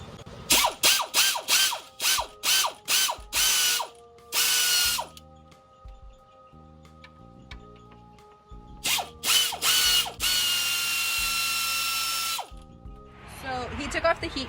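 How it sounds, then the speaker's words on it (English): A ratchet spins bolts onto Honda Civic headers, coming as bursts of rapid mechanical clicking separated by pauses, with a tonal whine in between and a louder clattering burst near the end. "Hit the ratchet. It'll spin onto it."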